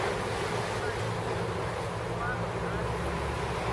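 Mediterranean Sea waves wash onto a sandy beach at Alanya, Turkey, in November, a steady broad surf roar with wind buffeting the microphone throughout and no clear talk.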